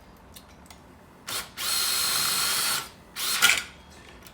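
An impact or power driver runs on a car strut nut while a strut is reassembled with lowering springs: a short burst, a steady whir of about a second and a half, then another brief burst, close and loud, with a few words spoken.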